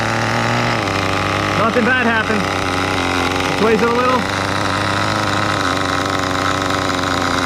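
A CEN CT5 nitro RC truck engine idles with a steady, buzzy drone while someone talks over it, the idle holding fairly even throughout.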